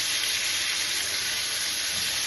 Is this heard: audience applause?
no